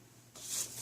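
A sheet of paper is handled during a handwritten math lesson, giving a short soft rustle that swells and ends in a brief louder crinkle, close and alone without talk.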